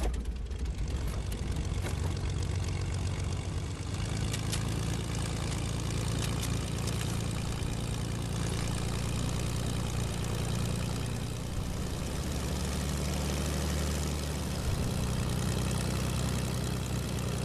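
Steady low engine drone from a vehicle being driven in Fortnite, a continuous humming rumble that holds at an even, fairly loud level throughout with faint higher whine above it.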